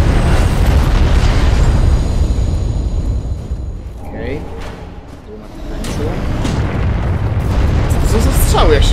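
Loud booming blasts of explosive arrows from a great bow in Dark Souls 3, a heavy explosion rumbling and fading, then another deep burst building up toward the end.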